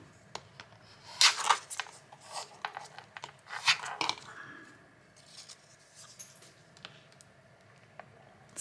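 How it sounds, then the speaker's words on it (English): Scissors cut paper for a Rudolph reindeer craft, with a few short crisp snips and rustles close up among quieter handling sounds. "Scissors."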